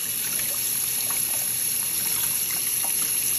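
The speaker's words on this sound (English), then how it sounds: "I'm gonna take this piece by piece and rinse it off." Salmon pieces rinsed one by one under running water, a steady close trickle and splash that holds constant throughout with no voices.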